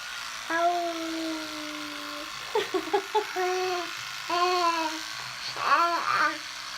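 A voice imitates an electric toothbrush with sustained buzzing hums, broken by short choppy bursts and a wavering hum near the end.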